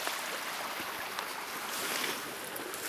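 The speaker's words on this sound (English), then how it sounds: "there's a stream running here" A stream running across a boggy valley floor where skunk cabbage grows, a steady close rush of flowing water with a bright broadband hiss and no voices.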